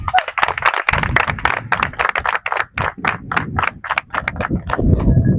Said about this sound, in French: je voudrais vous prier de vous applaudir